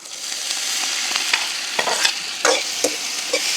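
Turkey berries stir-fried with onion, green chili and garlic in a village kitchen: a steady oil sizzle runs throughout while a utensil scrapes and taps the pan in irregular strokes, close up with no voices.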